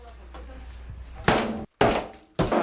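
A big hammer swung during home demolition lands three heavy, crashing blows with clattering debris, loud and close, each strike separated by a brief pause after a quieter lead-in.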